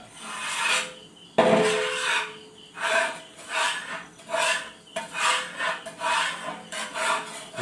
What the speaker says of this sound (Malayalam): അതുകൊണ്ട് അധികം നന്നായിട്ട് ഇളക്കി എടുക്കുക